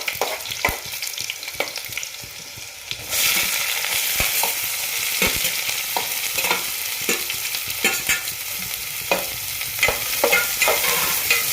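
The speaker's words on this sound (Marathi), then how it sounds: "ऑइल गरम झाल्यावर त्यामध्ये आपण लसूण टाकलेलं आहे आणि आता आपण त्यामध्ये कांदा टाकणार आहोत" Garlic and onion sizzle steadily in hot oil in a pan for an octopus curry, with repeated stirring scrapes and clicks throughout, close and fairly loud, no talking.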